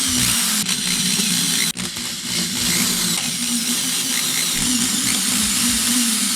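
Power drill fitted with an Evans drill bit driving drum lugs, a loud continuous whirring motor close by with a brief dip partway through, no talking.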